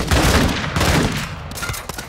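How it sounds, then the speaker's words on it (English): Gunfire in Call of Duty: Modern Warfare 2, a shot aimed at a container, heard as a loud, sharp blast with a brief rumbling echo, followed by fainter bursts. "aim at the container and fire one shot without killing another player"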